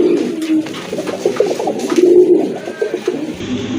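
Pigeons at a market stall, including a gola pigeon, coo in low throaty repeated bursts close by, several birds overlapping in a steady murmur with no talking.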